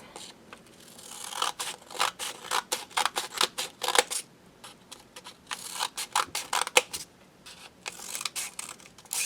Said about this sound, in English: I'm gonna hold it on the point and cut along the crease.